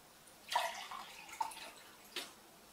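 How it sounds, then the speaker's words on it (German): Water poured into drinking glasses, a few short faint splashing pours about a second apart in a quiet room, with no talk. "Zuerst füllen wir beide Gläser mit Wasser."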